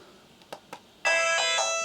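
On an X6 handheld console, two soft clicks are followed by OutRun's bright, sustained chiming start tone, which comes in abruptly and rings on loudly, close by, with no voices.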